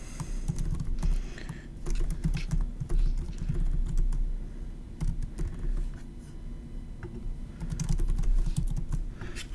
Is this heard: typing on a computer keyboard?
yes